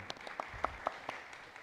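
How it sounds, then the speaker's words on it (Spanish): Sparse applause for a man named Jimmy, a handful of distinct claps in a loose irregular rhythm, faint and brief, with no voices over it. "Un aplauso a Jimmy"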